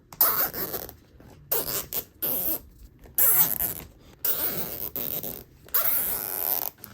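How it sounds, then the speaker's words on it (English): A zip tie is ratcheted tight through Saab 900 front seat upholstery, a series of quick zipping pulls in short bursts with brief pauses between them, close and fairly loud. "And we just zip tie it."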